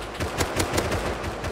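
Rapid bursts of automatic gunfire in the survival video game Rust, a steady run of repeated shots at a fairly even rhythm, moderately loud, with no talk over it.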